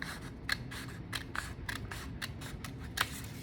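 Scissors snip through folded paper while making a paper kite, a series of crisp, close cutting crunches at an irregular, steady pace over a faint room hum.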